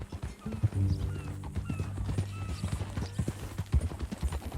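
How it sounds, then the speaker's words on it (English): Steady clip-clopping hoofbeats of a horse at a walk in Red Dead Redemption 2, up close, with a low rumbling hum running underneath throughout. "That a new horse?"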